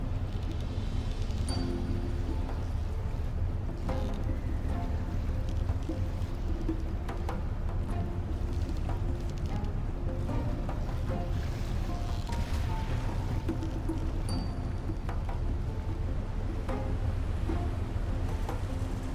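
A ship casting off and heading out to sea in the game Ships At Sea, a steady low engine rumble and wash of water continuing evenly throughout, with faint clanks now and then.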